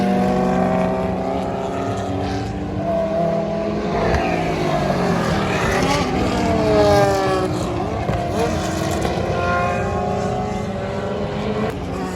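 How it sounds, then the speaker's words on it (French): A Ford GT40 race car arrives fast at the Dijon-Prenois circuit, its engine note climbing and swelling loudly as it nears, then sweeping past and fading while other engines drone in the background. "une autre Ford GT40 qui arrive bien vite"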